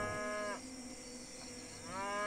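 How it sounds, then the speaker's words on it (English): Cattle mooing in the Wasteland 2 video game, two long drawn-out lowing calls, loud and close, with a quieter stretch of background between them and no talk. "Those cows are going crazy."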